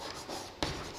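Marker or chalk scratching across a classroom board during a Hindi-language lesson, a steady faint scrawl with one sharper stroke partway through, no voices.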